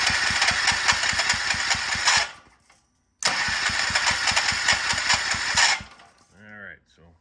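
Small gas engine of a Troy-Bilt Pony rototiller running with the choke on, a loud rapid chugging that cuts out, restarts after a second of silence, then dies again, followed by someone speaking.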